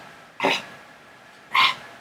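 Two short, sharp throat clearings, close and fairly quiet, about a second apart with near silence around them.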